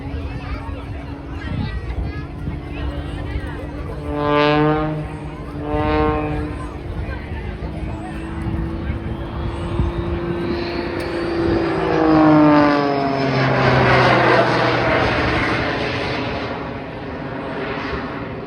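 A modified propeller aircraft flies at the Blackpool air show, its droning engine note rising and sweeping in pitch as it passes, loud and fairly near, under someone talking over a public address.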